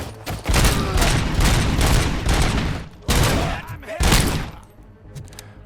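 Heavy gunfire in the RoboCop: Rogue City video game, loud bursts of shots in several clusters with crashes and thuds between them, near and dominant.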